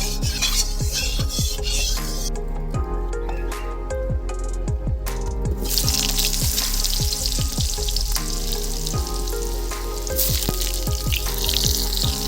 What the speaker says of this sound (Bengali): আলুটা একদম হালকা লাল করে ভেজে নেব